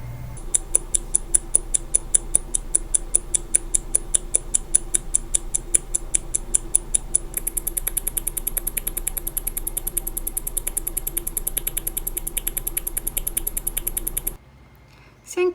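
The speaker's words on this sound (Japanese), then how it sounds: "測定器に乗せてみると音で違いを感じることができます。" A 36000 vph high-beat mechanical watch ticks steadily on a timing machine, a fast, even stream of crisp clicks that runs without a break, close and clear, then cuts off abruptly near the end.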